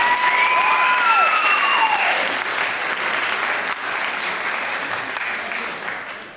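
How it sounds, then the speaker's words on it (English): A high school crowd at a hypnosis show during a winter ball claps loudly and continuously, with a few whoops rising over the applause near the start before it settles into even clapping. "Give them all a big round of applause."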